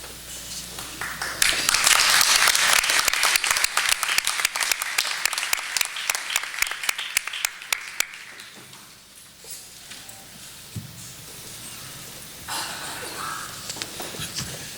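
An audience at a board of education meeting bursts into dense, loud clapping that runs for several seconds, thins into scattered claps and fades to a quiet room with a few faint knocks.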